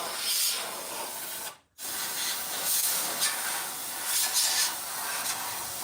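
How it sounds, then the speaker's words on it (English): Canned air duster blowing dust out of an Atari 2600 cartridge carrying case, a loud steady hiss broken by one brief pause before spraying resumes in continuous bursts. "Just gonna spray out any dust,"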